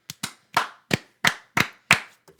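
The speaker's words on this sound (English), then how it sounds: "3-second clap to Xavier Worthy." Sharp, close hand claps ring out alone: seven crisp claps at a fairly even pace over about two seconds, followed by one faint tap.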